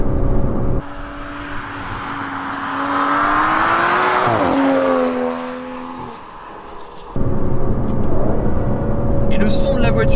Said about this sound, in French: le son est très rauque et on entend également beaucoup le moteur qui fonctionne, des sons un petit peu aigus, des sons de turbo